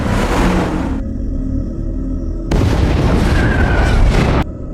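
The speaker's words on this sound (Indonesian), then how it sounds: "Dan pada akhirnya nuklir dari ilmuwan berhasil meledak" A nuclear bomb detonates in a film scene: a heavy, rumbling explosion roars continuously, swells again into a second loud blast, then fades into a lingering low rumble.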